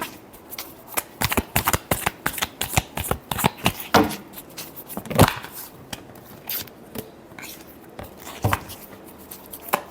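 Tarot cards being shuffled by hand, a rapid series of crisp riffling flicks and slaps in uneven bursts, close and clear, with no talking.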